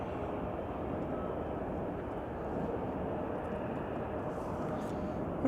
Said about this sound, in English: Is that Airbus A320? Yep, United Airlines 771.